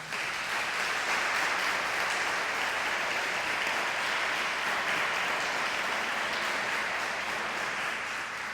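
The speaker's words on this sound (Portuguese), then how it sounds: "O Senhor não merece umas palmas?" A church congregation applauds in a sustained, dense wave of clapping that holds steady and fairly loud throughout, with no speech on top.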